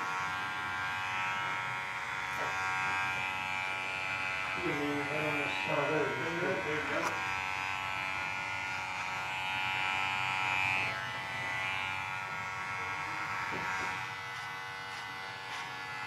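Hair clippers fitted with a number 2 guard trim a man's beard line in a barbershop, a steady close electric buzz running throughout under a voice talking.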